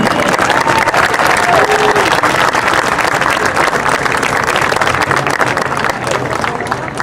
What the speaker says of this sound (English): Fans, let's have a round of applause for our Rowan Unified team.